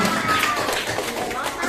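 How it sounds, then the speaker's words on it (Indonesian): A classroom of students clapping for their classmates, giving dense, steady applause with quick overlapping hand slaps for under two seconds, with voices mixed in. "Tepuk tangan buat teman-temannya."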